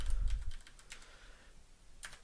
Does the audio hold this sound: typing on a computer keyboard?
yes